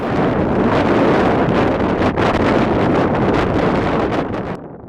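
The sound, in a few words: strong Patagonian wind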